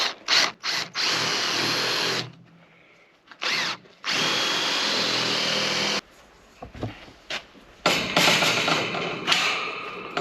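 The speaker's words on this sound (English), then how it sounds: "I've got a masonry drill bit here. It might go through this." A power drill with a masonry bit whines loudly in long bursts, stopping and restarting, with brief thumps and gaps of near silence between runs.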